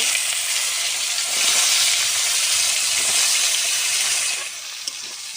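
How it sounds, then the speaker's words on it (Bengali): Fish fries in hot oil with a steady, loud hissing sizzle that eases slightly near the end, with one small clink. "মাছটা ভেজে নেব"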